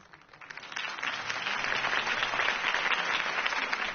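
A crowd at a campaign speech in a Batman video game breaks into applause that swells over the first second and then holds as a steady, dense clapping wash, with a slightly muffled tone.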